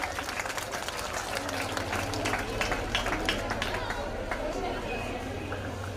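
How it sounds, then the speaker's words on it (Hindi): Applause and crowd chatter fill the hall at a 2020 school annual function and cultural program in Ladnun, steady clapping running throughout at moderate distance. "एक बार जोरदार तालियों से स्वागत।"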